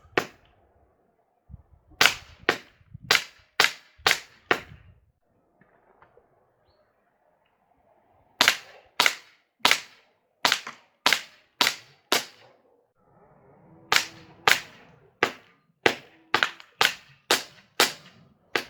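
A Hatsan H-1911 air pistol fires in rapid strings of sharp, snapping shots, about six, then eight, then ten in quick succession, separated by quiet pauses, close and loud.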